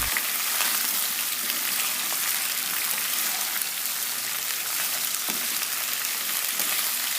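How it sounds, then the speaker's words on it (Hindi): Cauliflower and potatoes frying in a pan over a medium flame, giving a steady, dense sizzle with soft crackles throughout, close and continuous with no talking. "आलूओं को भी थोड़ा तल लेंगे ताकि इसका भी टेस्ट बढ़ जाए और ये भी थोड़े से सॉफ्ट हो जाएं"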